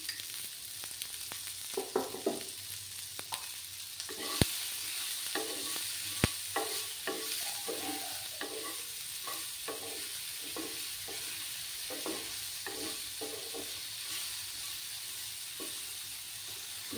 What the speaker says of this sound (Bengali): দিয়ে ভালো করে নাড়াচাড়া করে নিচ্ছি আমি